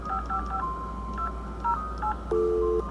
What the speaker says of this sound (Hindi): उसने सैम को कॉल किया।